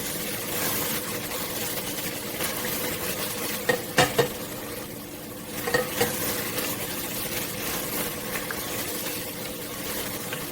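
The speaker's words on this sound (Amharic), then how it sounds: "አሁን በርበሬ ጨምርና ከበርበሬ ጋር ደግሞ አቅላላዋለሁ።" Berbere spice frying and being stirred in a pan for Ethiopian meat firfir, giving a steady hiss and sizzle with a few sharp clicks of a utensil against the pan midway.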